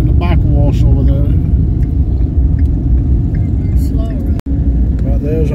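Motorcycles at the Sturgis Motorcycle Rally give off a loud, continuous engine rumble up close, with people talking over it throughout.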